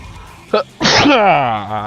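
A single loud sneeze, a sharp intake followed by a forceful burst, with a voiced trailing tone at the end; close and clear.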